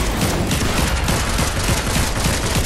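A loud, dense fusillade of rapid automatic gunfire from a shooter video game, continuous and close, filling the whole stretch with crackling shots and no voices over it.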